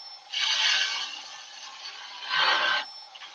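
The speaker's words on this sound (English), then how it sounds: "I am using the Colwyn Way skew, which I love because it's such a light tool" A Colwyn Way skew chisel cuts a spinning wooden snowman head on a lathe, giving a bright hissing scrape in two strong passes with a softer continuous rasp between, close and with no talk.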